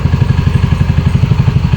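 A motorcycle engine idles close by with a loud, even, throbbing low pulse, just before it is switched off.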